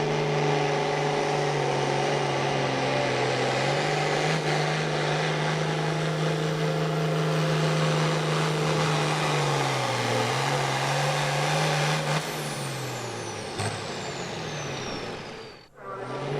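A pulling truck's engine roars steadily at high revs through a truck pull pass, loud and sustained with a slight pitch dip, then cuts off near the end.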